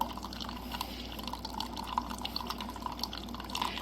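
Hot coffee poured into a mug filled to the top, with a steady, quiet liquid trickle and faint drips running throughout, close by and soft, with no talking.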